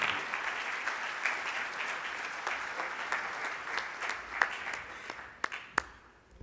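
Applause from the audience at an annual meeting session on youth involvement and community action, sustained and moderately distant, tapering off near the end into a few sharp individual claps.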